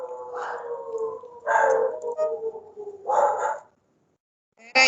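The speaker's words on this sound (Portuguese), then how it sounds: "Tá escutando meus cachorros aí?" Several dogs bark and howl in three loud bursts with pauses between them, with a short sharp yelp at the very end; no one speaks over them.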